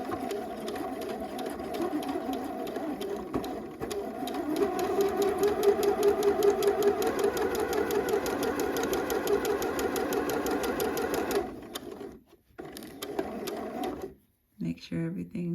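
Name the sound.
sewing machine straight stitch and back stitch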